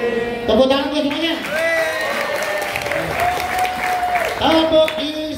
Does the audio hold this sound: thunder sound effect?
no